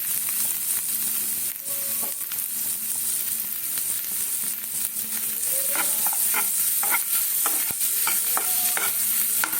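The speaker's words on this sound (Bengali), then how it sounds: "ওই একই বাটারেই কিন্তু নাড়িয়ে নিচ্ছি" Paneer and potato being stirred in butter in a pan make a steady, fairly loud sizzle, with spatula scrapes and clinks that grow more frequent toward the end, no voices.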